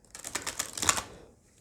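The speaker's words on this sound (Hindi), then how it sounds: "कार्ड्स कुछ अच्छे से शफल कर लेते हैं।" Tarot cards are shuffled in a brief, close flurry of rapid riffling snaps lasting about a second before fading out.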